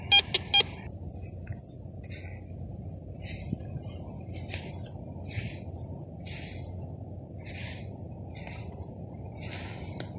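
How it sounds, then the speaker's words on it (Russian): A TX-850 Chinese metal detector sounds a stable target signal, giving a series of short, evenly repeated electronic tones over a steady low background hum, with a few sharper clicks at the start. "Стабильный 83 сигнал у нас сейчас попался."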